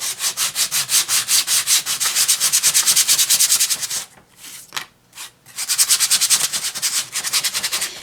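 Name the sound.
sanding painted woodcuts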